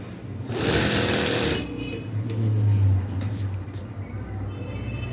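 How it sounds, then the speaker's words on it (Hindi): An electric sewing machine stitches a straight seam on a kurta cuff, its steady whirring rising loud for about a second, easing, then surging again in a low droning run, close up with no talk. "ऐसा ही बिल्कुल सीधी सिलाई लगाते जाना।"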